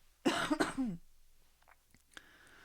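A single person's cough, a couple of sharp close bursts followed by a brief throat-clearing rasp, then faint small noises in an otherwise quiet room.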